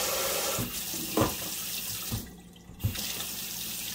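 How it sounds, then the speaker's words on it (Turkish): Cold water runs steadily from a household tap during a home repair, a continuous broadband gush with a few soft knocks and a brief dip partway through, heard alone without talk. "soğuk suyumuz akıyor"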